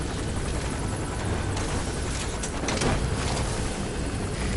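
A helicopter in the video game Metal Gear Solid V: The Phantom Pain gives off a steady, mid-distance rotor drone that stays at a constant level and swells slightly near the end.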